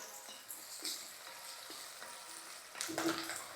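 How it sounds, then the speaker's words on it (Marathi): Onions frying over high gas for chicken pulao: a steady, moderate sizzle and crackle from the pan, with brief stirring scrapes and a slight swell near the end. "गॅस आता आपल्याला फास्ट करायचा आहे आणि कांदा आपल्याला चांगलासा नरम करून घ्यायचा आहे"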